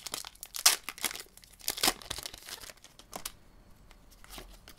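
A Pokémon booster pack's foil wrapper is torn open and crinkled, with quick bursts of tearing and rustling up close, then quieter handling.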